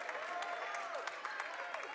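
Spectators at a high school volleyball game against Medfield clap and cheer after a rally, continuous applause mixed with shouts and squeaky sneaker sounds, under commentary.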